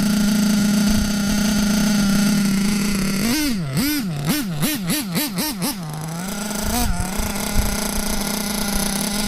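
A nitro-powered engine with a failed carburettor seal idles steadily, then revs up and down in a quick series of surging bursts before settling back to an uneven idle, close and loud.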